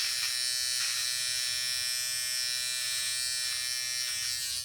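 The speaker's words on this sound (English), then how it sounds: "that really sounds and feels like a professional trimmer that you would go to the barber and get" A Gillette Fusion Proglide Styler electric trimmer buzzes loud and close, a steady high-pitched motor whine running unbroken throughout.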